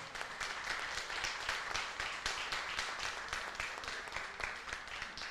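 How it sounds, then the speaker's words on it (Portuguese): Congregation clapping during a church service, fairly faint, with a quick, rhythmic beat running steadily throughout. "E as palmas louvam o Senhor Jesus."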